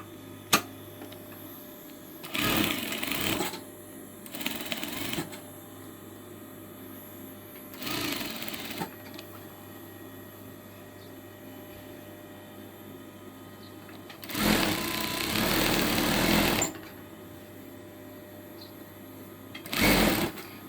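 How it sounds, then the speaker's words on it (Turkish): Sewing machine stitching fabric for a bow, running in several separate bursts of a few seconds each with quiet pauses between, the longest near the end, close and fairly loud. "şimdi dikme işlemine geçiyoruz. Makineyi çalıştıralım."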